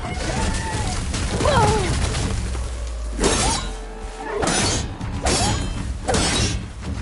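A hammer bashes metal robots in a western-themed video game, producing several loud, sharp shattering crashes spaced a second or so apart over a busy game soundscape with a character's voiced exclamations.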